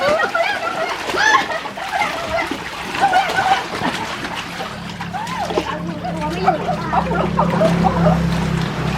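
A child swims and splashes in water, with irregular splashes heard close by under the voices of people talking and calling out. Birds coo faintly in the background.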